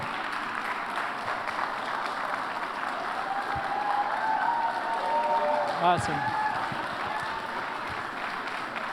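An audience at a National Civics Bee event claps steadily for student winner Romaine, with a burst of cheering near the middle, while a presenter's voice speaks over the applause.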